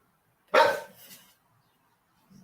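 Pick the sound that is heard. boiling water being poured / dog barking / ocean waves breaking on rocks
dog barking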